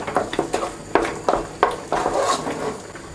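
A spoon scrapes and knocks against a pot while butter, salt and black pepper are stirred into mashed potatoes, giving a string of close, irregular clinks and soft thuds.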